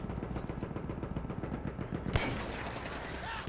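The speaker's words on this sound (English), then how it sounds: "Who else is firing at me?" Steady rattling rifle and machine gun fire in the Battlefield 1 campaign, a rapid continuous patter of shots with one sharper, louder burst near the end, fairly close and without talk.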